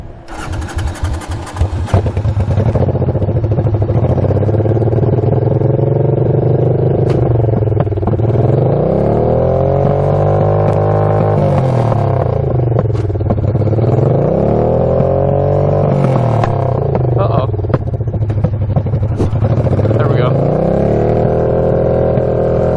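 A tractor fitted with a swapped 500cc Honda engine starts up with a sputter, then revs hard in repeated rising and falling surges, loud and close, during a wheelie attempt.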